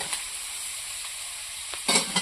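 Shrimp sizzle steadily as they fry in hot oil, a continuous hissing crackle with a couple of louder stirring bursts near the end; no one speaks.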